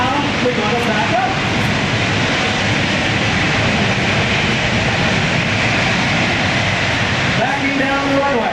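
A C-17 Globemaster III transport jet reversing down the runway after landing, its engines a loud, steady, broadband roar throughout, with a voice heard faintly over it.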